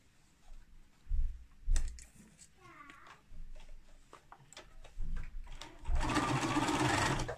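Sewing machine running in quick bursts as it stitches the seam of a cotton drawstring scrub wash bag, with a sustained loud whirring run near the end and a few cat-like squeaks earlier; no talking.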